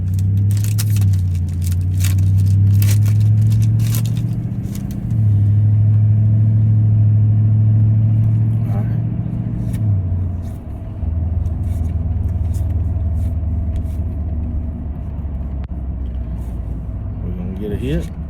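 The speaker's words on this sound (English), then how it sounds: "I'm sitting in traffic, just barely moving" Car creeping along in slow traffic, a loud steady low engine rumble heard from inside the cabin with slight swells in the drone, continuous for the whole stretch.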